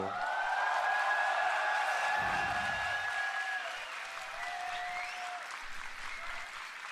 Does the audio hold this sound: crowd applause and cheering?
yes